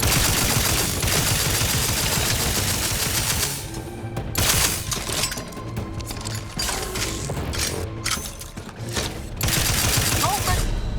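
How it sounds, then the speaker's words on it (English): Turret gunfire in The Outer Worlds 2 rattles loud and close in dense, continuous bursts, easing briefly in the middle before hammering on again. "Those turrets are so strong."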